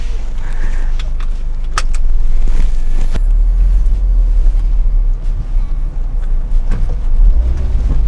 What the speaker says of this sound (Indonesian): Gas aja dikit aja langsung ya